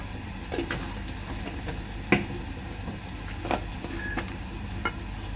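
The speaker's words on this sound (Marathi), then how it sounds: "आता मसाले आहेत ना चांगले तेलात शिजवून घेणार आहेत" Agri Koli masala spices frying and sizzling in oil with cooked onion and tomato for a dry jawla (tiny shrimp) and brinjal dish, a steady close sizzle broken by a few sharp stirring scrapes.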